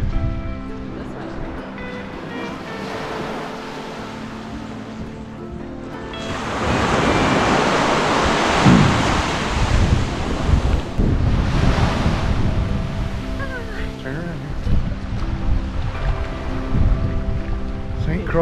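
Gentle surf washes onto a calm beach at Buck Island, St. Croix, a steady soft roar that swells midway, mixed with wind buffeting the microphone.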